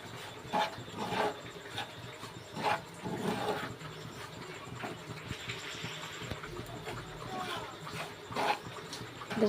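Semolina being stirred in a dry wok for a spicy semolina dish, heard as soft intermittent scraping and rubbing strokes close by, fairly quiet with brief louder scrapes.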